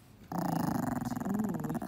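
A two-week-old long-coat chihuahua puppy growls low and steady for nearly two seconds, close by, rumbling with a slight rise in pitch near the end.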